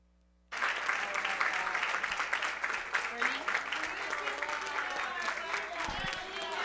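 Applause bursts out abruptly from a symposium audience for three speakers, a dense, steady clapping that continues for several seconds without letting up, with faint crowd voices mixed in.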